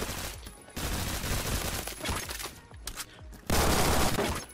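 A silenced sniper rifle fires in the Roblox shooter Phantom Forces. Several sharp, loud bursts of shots come in separate clusters, with quieter gaps between them and a heavy final burst.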